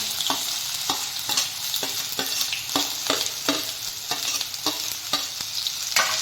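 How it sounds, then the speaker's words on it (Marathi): Chopped onion sautéing in hot oil in a kadhai, with a steady broadband sizzle and regular scraping stirs about every half second, close and fairly loud, with no voices. "कांदा मस्त आता परतून घेऊया"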